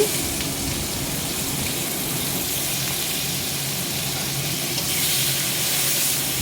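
Tomatoes and green chillies fry in a pan for egg curry, giving a continuous, even sizzle that stays close and constant throughout with no talking.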